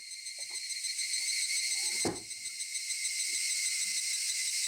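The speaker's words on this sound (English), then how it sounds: "I sure love the awkward silence with cicada sounds in the background" Cicadas drone steadily and loudly through the whole stretch, a dense continuous buzz with a brief low thump partway through and a few faint background sounds.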